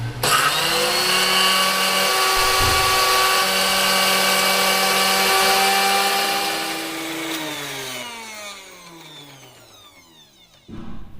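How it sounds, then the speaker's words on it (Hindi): An electric spice grinder runs loud and steady while grinding korma masala spices into fine powder, then winds down as its motor pitch falls and fades, followed by a short clatter near the end. "मसाला बिल्कुल बारीक होना चाहिए, बिल्कुल बारीक हम मसाला पीसेंगे।"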